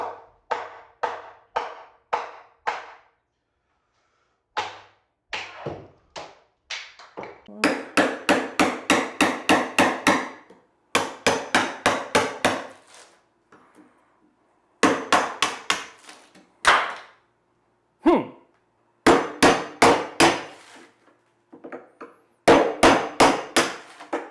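Hammer tapping stuck wooden blocks off a cured epoxy river table, a long string of sharp, close knocks in rapid bursts separated by short pauses.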